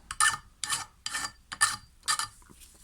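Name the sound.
filing metal blade with flat file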